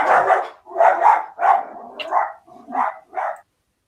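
A dog barks in a quick series of about six loud, close woofs, some run together, with short pauses between them.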